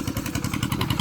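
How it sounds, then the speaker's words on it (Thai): An air compressor pump runs steadily close by, giving a continuous low, chugging engine-like drone with a regular pulsing beat throughout. "นี่น้องสตาร์ทปั๊มลมไว้นะครับ"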